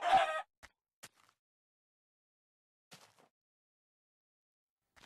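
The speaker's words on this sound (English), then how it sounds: "Come here, chicken." A blocky survival crafting video game chicken gives a short cluck at the start, followed by a few faint, sparse clicks and soft cluck sounds amid near silence.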